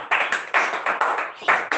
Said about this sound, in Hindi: सनी भाई और यशो भाई एक बार जोरदार तालियां